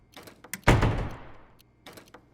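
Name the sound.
door slammed shut, radio drama sound effect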